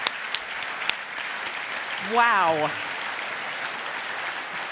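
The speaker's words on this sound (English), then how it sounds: "Let's give our panelists a round of applause." Audience applause for a conference panel at a talk on the transgender movement, steady broadband clapping across the whole stretch, with a single voice briefly exclaiming over it midway.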